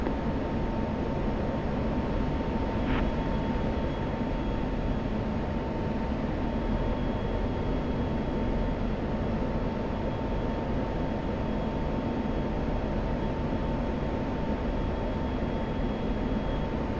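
An F-16 jet engine in a flight simulator game makes a constant, even roar that holds steady throughout, with a faint tonal whine above it and no breaks.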